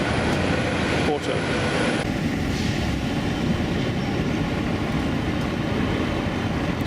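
A Porto Metro tram-train crosses in front on a bridge in Porto, Portugal, a steady loud rumble with rolling wheel noise that fills the whole stretch, with faint voices underneath.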